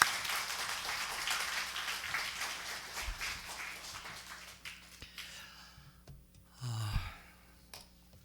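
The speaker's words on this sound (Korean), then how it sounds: "우리 나오실 때 우리 박수로 환영하겠습니다." A church congregation claps to welcome a pastor at a Sunday afternoon seminar, brisk applause that fades out over several seconds, followed by breathy sounds and a low hum near a microphone.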